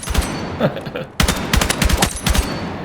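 M277 MCX Spear rifle fired in Battlefield 6, short bursts of sharp, punchy shots in quick succession, a brief gap, then a denser run of rapid reports, loud and close.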